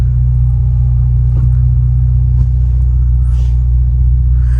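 Nissan Infiniti Q50 engine idling rough after a turbo repair, a steady loud low rumble with a faint periodic vibration, close by and continuous with no talking.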